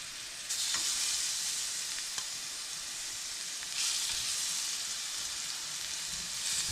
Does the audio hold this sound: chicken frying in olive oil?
yes